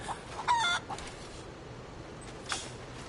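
Chickens in a video game, a few clucks and short squawks heard faintly over a soft hiss, sparse and brief with quiet gaps.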